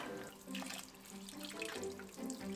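Water runs steadily from a tap as beetroot is rinsed and rubbed under the stream, with splashing and shifting flow.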